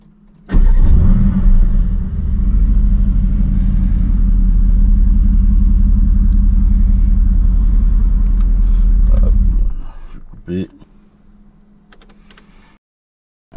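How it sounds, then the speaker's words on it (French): A Mercedes-AMG GT S with a 4L bi-turbo V8 starts with a sharp burst, then settles into a loud, steady deep rumble close by before cutting off, followed by faint clicks. "pour démarrer la voiture, pied sur le frein et le bouton de démarrage est ici."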